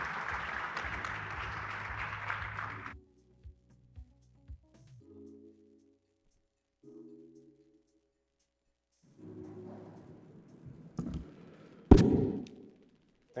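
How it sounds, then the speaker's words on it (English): Applause for the Indian ambassador at the inaugural session of a vaccine manufacturers' general meeting lasts a few seconds before stopping abruptly, followed by scattered thumps, microphone handling noises and brief bits of voice. "With applause."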